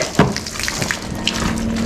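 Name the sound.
water running from a tap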